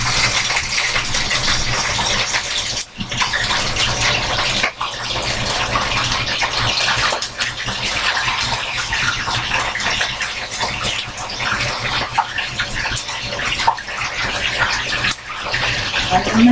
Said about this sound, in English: So now that the oil is hot, I'm gonna place the fish in the pot.